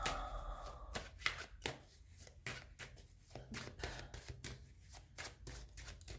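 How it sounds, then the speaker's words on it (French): Tarot cards are shuffled and drawn by hand in a quiet room, making a rhythmic series of close papery riffles and slaps that repeat steadily throughout. "Je vais tirer quelques cartes."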